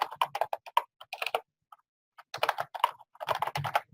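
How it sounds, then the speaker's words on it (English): Typing on a computer keyboard: clusters of quick, crisp key clicks in two bursts separated by a short pause, close and fairly loud with no talking. "you can type whatever text here"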